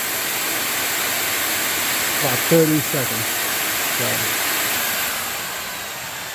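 Samsung Bespoke Jet cordless stick vacuum running on jet mode, a loud, steady, broadband roar that holds for the whole stretch while a voice speaks briefly over it.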